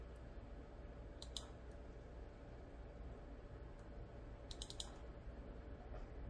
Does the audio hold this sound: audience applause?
no